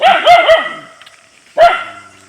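A dog barks three times in quick succession nearby, pauses, then lets out one more loud bark.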